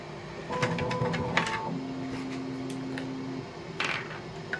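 A 3D printer runs nearby with a steady motor whine, sustained tones and soft mechanical ticks and clicks, no voices.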